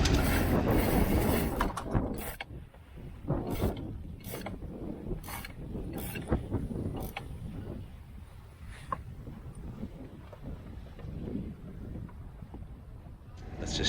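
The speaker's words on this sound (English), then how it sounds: "Just pull the Genoa out with this sheet." On a sailboat offshore, a genoa sheet is hauled through pulleys, producing a rapid series of close ratcheting clicks and whirring runs over steady wind and water rumble, with no talk.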